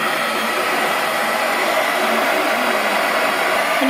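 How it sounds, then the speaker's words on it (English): A heat gun blows hot air onto melted plastic from a printer, a loud, steady, unbroken whoosh of blowing air that runs throughout with no talking. "And then take a heat gun. So then you take this and you just blow the heat on it until it gets shiny."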